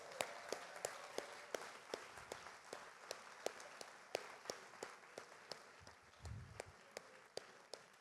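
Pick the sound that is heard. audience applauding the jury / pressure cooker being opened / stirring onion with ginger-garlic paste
audience applauding the jury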